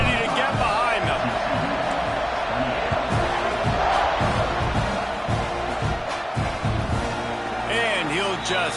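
A stadium crowd cheering in the college football video game College Football 26, a loud, dense roar with whoops rising and falling throughout while a commentator talks over it.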